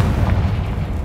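Confringo blasting spell in Hogwarts Legacy, a deep, loud booming burst with heavy low rumble throughout the brief moment.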